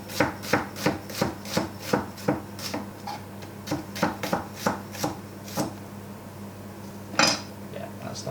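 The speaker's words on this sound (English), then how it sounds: "we're just going to slice it nice and thin" A knife thinly slices a vegetable on a chopping board for a lentil and butternut squash curry, giving a quick, regular series of crisp close taps that slows and thins out toward the end, with no speech over it.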